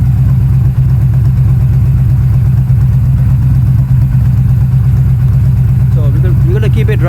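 A 2007 Yamaha VStar 1300 motorcycle engine idles steadily nearby, its low, even throb continuing unchanged throughout, with a brief higher rattle creeping in near the end.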